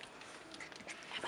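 A yellow Labrador retriever puppy gives soft whimpers and faint yips, close by but quiet, over a steady hiss of background noise.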